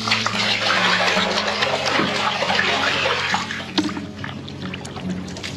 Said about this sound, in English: Just to make sure the side decks will drain, I tip a bucket of water down.